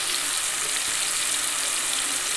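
Masala spice paste frying in hot oil for katachi amti, a spicy Maharashtrian lentil curry, giving a steady close crackling sizzle that runs evenly throughout with no talking.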